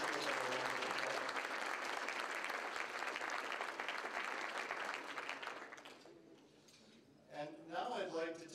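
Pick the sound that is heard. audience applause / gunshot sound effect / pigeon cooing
audience applause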